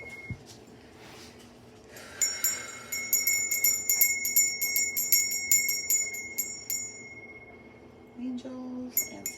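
A small bell rings repeatedly in a quick series of bright, ringing strikes that shimmer and fade, followed by a few softer clinks, with no talking over it.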